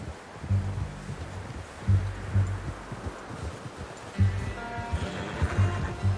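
A horse in the video game Red Dead Redemption 2 neighs and snorts amid soft hoof movement and rustling, with low rumbling ambience; no speech.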